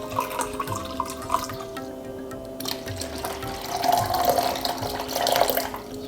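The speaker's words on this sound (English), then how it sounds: "300 milliliters of kefir, to which I'm gonna put another 100 milliliters of water to" Water poured into 300 millilitres of kefir to dilute it, a trickling, bubbling pour that rises in two louder surges midway, close and alone.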